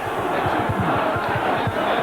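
A rugby league stadium crowd protesting during a Salford versus Dewsbury John Player Trophy match: a dense, steady roar of shouting and jeering voices, loud and sustained, with a wash of broad noise from the stands.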